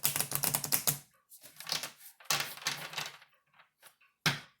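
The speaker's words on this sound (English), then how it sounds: "One more good shuffle." Tarot cards shuffled in quick bursts of dense riffling clicks, with short pauses between bursts, close and fairly loud; no talking.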